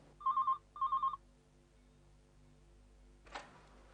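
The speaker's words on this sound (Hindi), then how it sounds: "वर्मा साहब आपका फोन" A telephone bell rings in two short trilling bursts indoors, followed by quiet room tone and a brief clatter near the end.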